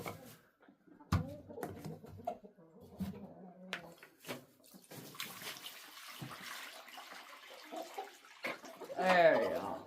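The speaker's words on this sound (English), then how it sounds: "Let's fill up their inside water." Fresh water is filled into a chickens' water container on a homestead, starting with scattered clanks and knocks of handling and building into a louder, continuous splashing rush near the end.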